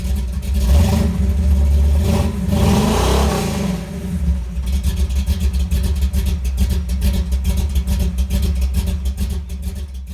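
A 2019 Chevrolet Camaro SS V8 with secondary catalytic converters removed and Flowmaster Super 44 mufflers revs hard, a deep rumbling roar swelling through several throttle blips, then settles into a loud, choppy idle burble up close.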